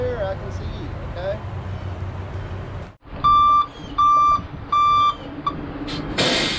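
Backup beeps from a reversing truck sound as a run of loud, evenly spaced electronic tones, four or five pulses in steady rhythm, following a stretch of low engine rumble and background noise.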